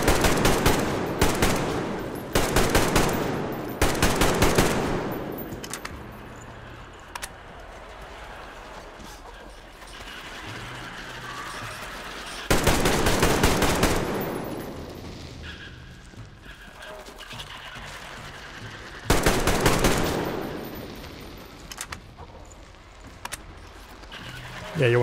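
In Metro Exodus, a player shoots at a spider in a cave with repeated loud bursts of rapid gunfire separated by quieter gaps. Someone talks and mutters between and under the volleys.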